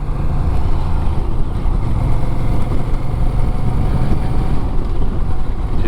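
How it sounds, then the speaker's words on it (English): Honda Rebel 1100 cruiser motorcycle accelerating hard, a steady loud engine roar mixed with heavy wind rush, recorded from the rider's position with no pauses. "I twisted the throttle a bit more than I intended then"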